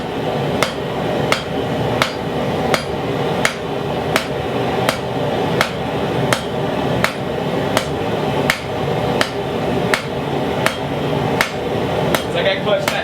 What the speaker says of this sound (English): I'm starting with the flat side of the hammer, then moving to the round side. Forging half on, half off, that far into the anvil.